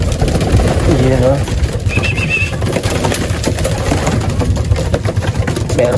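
Racing pigeons on loading day coo softly and repeatedly at close range, with low rumbling background noise and a person talking over them.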